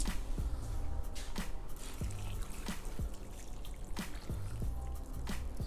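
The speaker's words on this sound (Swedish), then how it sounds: "Så ska vi ha lite vatten till det." Water pours and trickles into a pot of short ribs with beef stock, a steady splashing stream broken by irregular drips and clinks throughout, close and moderately quiet.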